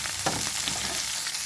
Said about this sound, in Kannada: ಚೆನ್ನಾಗಿ ಎಣ್ಣೆಯಲ್ಲಿ ಫ್ರೈ ಮಾಡುವ